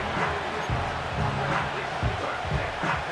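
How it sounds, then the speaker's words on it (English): Stadium crowd roaring in the Madden NFL 25 football video game, a steady dense wash of cheering that swells slightly, with commentary voices talking over it. "This crowd turning up the decibel level"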